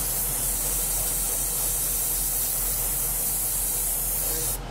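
An airbrush sprays paint onto the wing of a model Phantom aircraft, a steady close, even hiss that runs without a break and cuts off right at the end.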